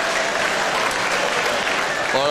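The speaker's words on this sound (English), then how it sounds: "Just a round of applause from your Bristol cider drinking friend" A live theatre audience claps and cheers in a dense, steady wash of applause, with a voice breaking in at the very end.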